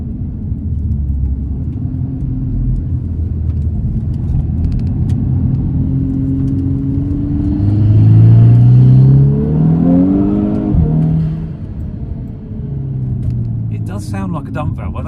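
VW Scirocco R with a Revo induction kit, its air filter drawing in air with a whooshing, dump-valve-like sound over steady engine rumble that swells near the middle as the car accelerates, with talk over it.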